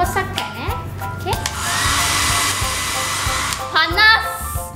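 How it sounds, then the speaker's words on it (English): A hair dryer switches on and blows with a steady, loud whooshing whir for several seconds while children talk and squeal around it. "korang kena ada hair dryer. Belum pasang, geng. Ha, tolong pasang kan?"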